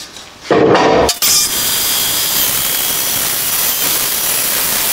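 A piece of wood being cut freehand with a power tool for an acrylic and wood vase: a short burst, a brief pause, then a loud, steady whine that runs on.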